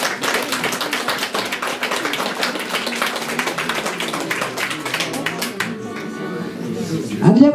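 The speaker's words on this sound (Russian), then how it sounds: "аплодисменты" Dense, steady applause from an audience at a New Year's stage show, clapping loudly and continuously for most of the stretch before thinning out near the end.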